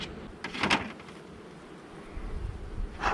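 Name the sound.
honey bees buzzing in an open hive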